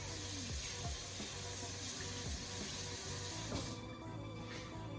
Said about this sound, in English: So let's actually wash this spoon.